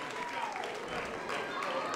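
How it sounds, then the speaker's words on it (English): Audience applause after an exhibition boxing bout, a dense steady clapping from the crowd lasting the whole moment, with an announcer talking over it. "big round of applause"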